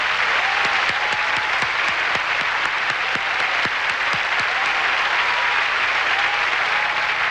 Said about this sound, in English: Ladies and gentlemen, please join me in applauding all the contestants for the title of Miss Universe 1989.